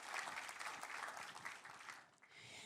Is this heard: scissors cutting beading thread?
no